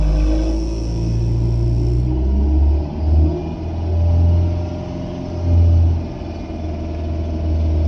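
A Mahindra Scorpio being checked for an accelerator fault, its engine revved several times in slow swells over a steady idle rumble, heard close up.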